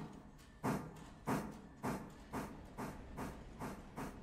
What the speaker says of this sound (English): get the train moving.